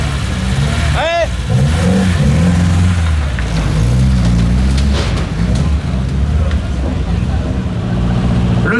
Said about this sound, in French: Le 108 au départ, Thomas et Robert Pluchke sur BMW 2002